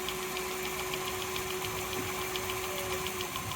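A sharpening machine with a cardboard wheel, set up inside a sharpening van, runs with a steady motor hum and faint regular ticking, close and unbroken, with no voices.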